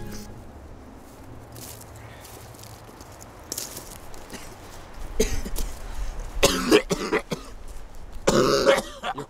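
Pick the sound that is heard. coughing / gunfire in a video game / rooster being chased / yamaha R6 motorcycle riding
coughing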